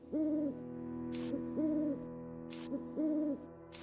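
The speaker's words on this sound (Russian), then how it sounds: "Три совы." An owl in the video game Forgotten Hill Mementoes hoots in a repeated two-tone pattern, three clear hoots spaced about a second and a half apart, with short bright chime-like bursts between them over a quiet background.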